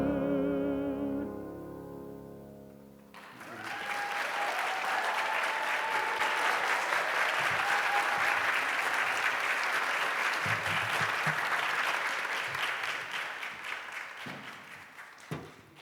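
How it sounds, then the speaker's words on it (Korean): Applause from a congregation at a young adults' church worship service swells after a sung phrase fades out, then sustains as steady, dense clapping for about ten seconds before tapering off. "다시 한번 우리 집사님께 뜨거운 박수 부탁드립니다"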